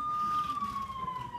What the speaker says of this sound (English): and with the police siren going off.